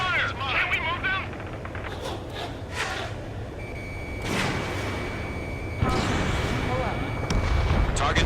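Explosions and gunfire strike radar vehicles during a battle in the Ace Combat 7 video game, with heavy booms and a continuous roar of combat that swells toward the end, mixed with radio-style voices.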